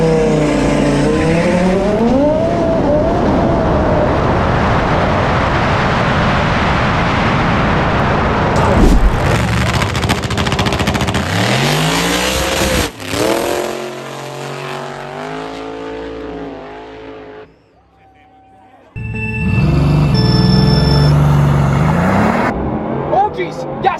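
Bugatti and other cars racing, loud engines roaring and revving close by with rising and falling pitch as they pass, tire squeal, a brief lull, then engine roar again, with people talking over it.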